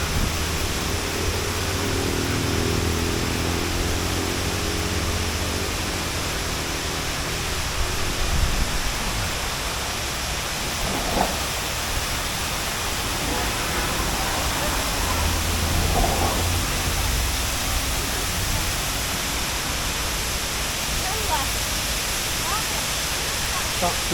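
A waterfall near Ankara pours with a constant broad hiss and roar, steady and unbroken throughout, with a few faint voices talking beneath it.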